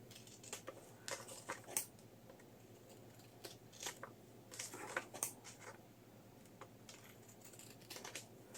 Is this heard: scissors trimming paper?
yes